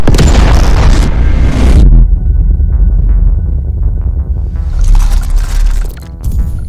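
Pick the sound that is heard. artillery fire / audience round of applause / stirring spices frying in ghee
artillery fire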